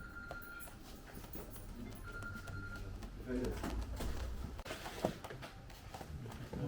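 Pigeons coo softly among female birds at a tumbler pigeon table release, under steady talk and faint background clatter.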